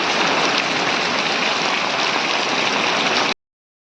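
Heavy monsoon rain pours steadily over a rural Konkan farm, a dense, even roar with no letup, close and loud, with no voices, before cutting off abruptly.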